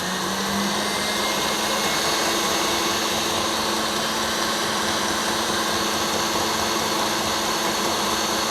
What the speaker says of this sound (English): Then mix it up and then beat it again one more time.